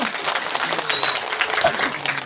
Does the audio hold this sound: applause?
yes